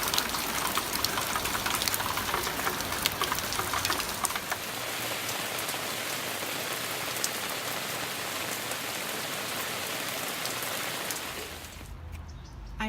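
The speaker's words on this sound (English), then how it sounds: "it is raining cats and dogs" Heavy rain pouring down outdoors over a garden, a dense, steady hiss of drops drumming on surfaces that stays loud and continuous throughout, easing only slightly near the end.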